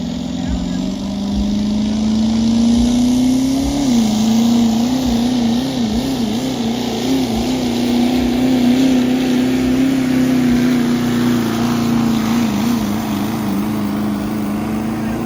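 A diesel pickup truck engine roars loud and sustained during a pro street truck pull, its pitch climbing, then wavering as the engine spools up and holds under load, with an announcer talking over it.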